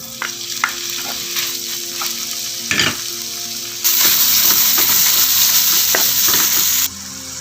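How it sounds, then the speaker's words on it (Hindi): Loud sizzle of beef frying with browned garlic, with repeated spatula scrapes and stirring clatter in a pan, getting briefly louder midway, no speech. "बीफ को अच्छे से हम पका लेंगे, साथ में हिलाएंगे"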